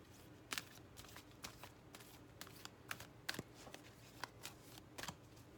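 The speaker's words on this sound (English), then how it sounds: "So I'm going to pull a couple cards from this deck." Oracle deck cards being shuffled by hand, soft riffling and scattered sharp card flicks at irregular intervals, quiet and close with no speech.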